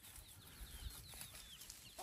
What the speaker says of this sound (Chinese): 这些鸡现在也都全部到这上面来了